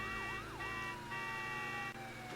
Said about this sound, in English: I can put my sirens on.